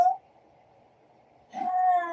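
A domestic cat meows twice, a brief clipped end of one call followed by a quiet pause and then a longer, full meow, close and distinct with no speech.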